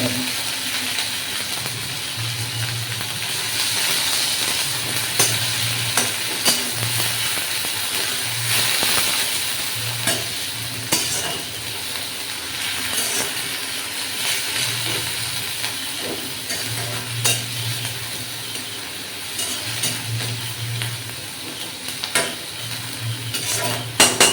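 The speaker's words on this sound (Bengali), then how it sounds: "পেঁয়াজটা ভাজা ভাজা হোক" Onions frying in oil with cardamom and cloves in a pan, a continuous hissing sizzle with intermittent stirring scrapes and light utensil clinks, close and steady, without speech.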